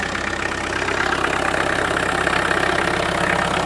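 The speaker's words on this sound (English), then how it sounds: "Does she idle? She idles. Our trusty old Peugeot diesel." An old Peugeot 504 diesel pickup engine idles steadily and loudly up close, with a slightly stuttery, knocking diesel clatter throughout.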